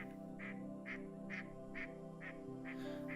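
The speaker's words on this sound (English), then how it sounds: "The mallard is known to many as just a duck because it is so common." A mallard duck quacks six times in a steady, evenly spaced series, faint and somewhat distant against a low background hum outdoors.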